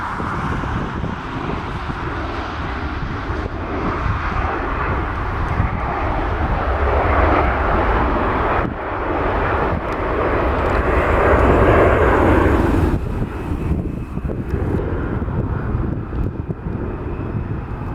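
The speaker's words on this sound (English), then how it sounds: "I just heard engine go off, which will be the A321 going to Charlotte." An Airbus A321 jet engine spools up at Portland airport, a broad, sustained roar heard from a distance with steady loudness and some wind noise, and no voices.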